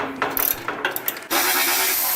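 A ratchet wrench clicks in rapid bursts while fender strut bolts come off a Harley-Davidson Softail, followed by a steadier, rougher mechanical rasp, all close and fairly loud.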